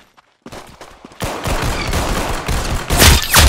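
Gunfire in the video game Arsenal: after a short quiet moment, dense rapid bursts of shots break out and grow louder toward the end, with no talking over them.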